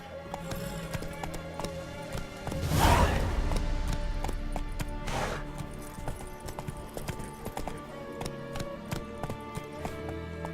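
Hooves clip-clop in a quick, uneven patter as a horse trots and runs in The Witcher 3, with a louder crashing burst near the start and a second softer swell, then steady light hoofbeats.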